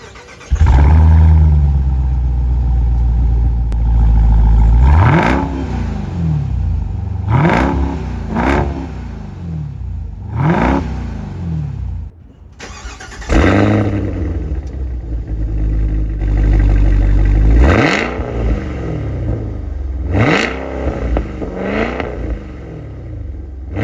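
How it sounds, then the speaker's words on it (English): An SUV engine revs hard several times in quick bursts, its loud exhaust roaring and dropping back to idle between each rev. "I was amazed at how loud the exhaust is on this. Matter of fact, let's compare the exhaust tones."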